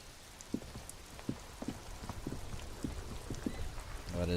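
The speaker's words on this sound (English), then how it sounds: "This rain will not let up anytime soon." Steady rain falling in the video game Disco Elysium, a soft continuous hiss with scattered faint drops, fairly quiet throughout with no talking.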